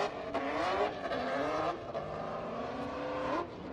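A drift car on its bye run at Formula Drift Orlando screams through rising and falling revs with tire squeal, loud and continuous as it works through the course, with no talk.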